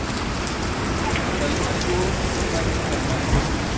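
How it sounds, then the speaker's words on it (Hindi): Heavy rain pours down steadily, drumming on surfaces in a dense, continuous hiss with no break. "ये देखो जोर की बारिश है।"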